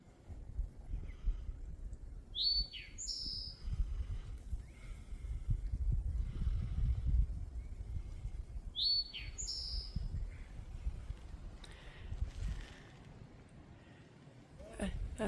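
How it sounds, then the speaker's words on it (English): A rufous-sided towhee sings from trees beside an Appalachian Trail campsite: two short, bright phrases several seconds apart, moderately near, over a steady low rumble of wind and ambient noise. "I call it the rufous-sided towhee"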